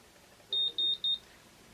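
A hair curling iron signals a finished curl with three short, evenly spaced high electronic beeps, clear and close against a quiet room, with no voices.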